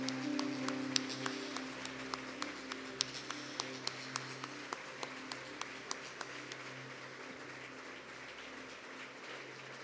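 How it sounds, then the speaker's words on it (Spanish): A church congregation at a Sunday evening service claps, a faint, distant patter of scattered hand claps over a low hum in a large room, with no talking. "Dale un fuerte aplauso a Jesús."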